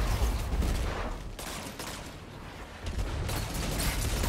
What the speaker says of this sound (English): But the 180 hand cannons are so easy to follow up with your shots.